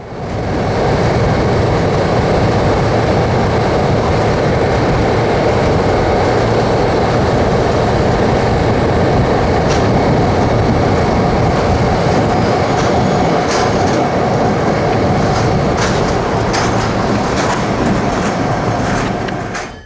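A train hauled by the Clinchfield 800 steam locomotive eases through a town at night, a loud, continuous rumble of rolling wheels and cars that fills the whole stretch, with faint clanks and squeals, no voices.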